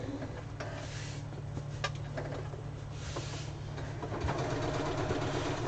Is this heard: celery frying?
no